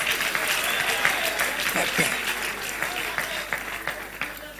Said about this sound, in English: Don't stop clapping.